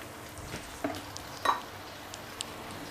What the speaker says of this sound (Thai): ผัดให้หอมๆเลยค่ะเหยาะสีอิ๊วดำไปน้อยนึง